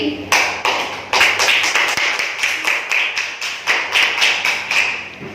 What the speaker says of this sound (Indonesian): Beri tepuk tangan untuk Mas Rizky.